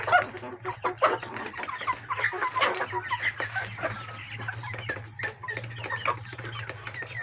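Free-range country chickens cluck continuously at close range, a busy overlapping chorus of hens over a low steady hum, with no talking.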